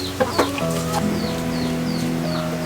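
Hens at a small rural farm where an elderly man keeps chickens and gathers eggs cluck clearly and close by. A couple of sharp squawks open a run of repeated, overlapping clucks.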